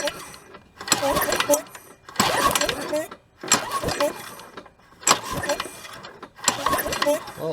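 The starter rope on a Sears Craftsman 21-inch lawn mower with a Briggs & Stratton engine is pulled six times in a steady rhythm, each pull a close rattling, ratcheting whir followed by a short pause.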